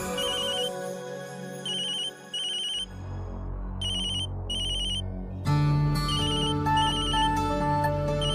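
A synthesized phone ringtone in a TV drama chimes in repeated short bursts over background music, then continues after a brief change in the music.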